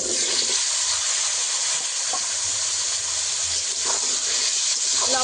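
Potatoes fry in hot oil with salt and turmeric on a lit stove, giving a steady, fairly loud hiss that holds evenly throughout with faint scattered crackles.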